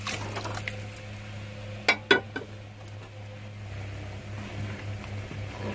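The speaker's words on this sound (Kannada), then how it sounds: "ಈ ಒಗ್ಗರಣೆ ಪಾತ್ರೆಗೆ ಒಂದು ಸ್ವಲ್ಪ ನೀರು ಹಾಕೊಂಡು ಹಾಕ್ತಾ ಇದ್ದೀನಿ" A little water goes into the tempering pan used for sprouted horse gram saaru, giving a few brief splashy pours and liquid gurgles in the middle over a quiet kitchen hum.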